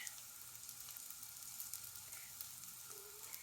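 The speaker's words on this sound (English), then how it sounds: "I like to let the one side of the bread soak up the butter, flip it around, and toast that side" Bread toasts in butter in a pan for Korean street toast, giving a faint, steady, crackling sizzle throughout with no voices.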